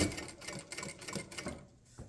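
Jack A5E-A industrial sewing machine stitching, a quick run of evenly spaced mechanical thumps and clicks, close and fairly quiet, ending with a single sharper tap.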